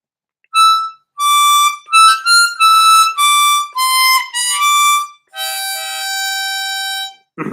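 Harmonica plays a simple melody of separate held notes with short gaps, ending on one longer sustained note; clear, close and solo with no talking.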